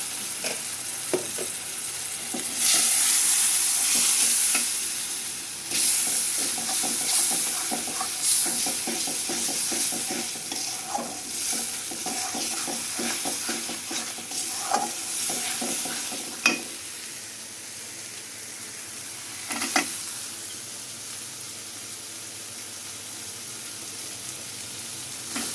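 Fish being sautéed in spice paste with a splash of hot water in a pan, a steady loud sizzle and hiss with stirring scrapes throughout and a few sharper clacks near the end.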